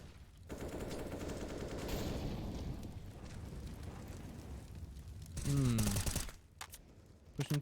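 Rapid gunfire in a Counter-Strike match on the Vertigo map, with light pistols and an AK-47 rattling in dense bursts. Continuous loud shooting fills most of the stretch before cutting to a few sharp, isolated shots near the end.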